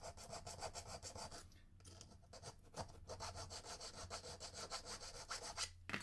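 Hand file rasping on an aluminium Daiwa line counter part: steady back-and-forth strokes, close and fairly loud, with a brief pause partway through and no talking.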